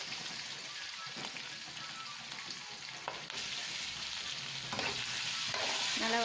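Onions sautéing in a pan for chicken biryani, a steady broadband sizzle with occasional stirring scrapes, growing slightly louder toward the end, with no talk.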